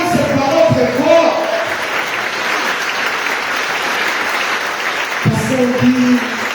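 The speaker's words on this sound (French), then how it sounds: "J'aimerais qu'on acclame cette parole très fort" A congregation at a large charismatic Catholic prayer assembly in Saint-André applauds loudly, sustained dense clapping mixed with cheers, while a voice is heard briefly at the start and again near the end.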